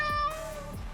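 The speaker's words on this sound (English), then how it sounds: "Yes, there's a cat there." A house cat meows once, close and clear with a bright tonal cry that drops away after a moment, leaving a faint room hum.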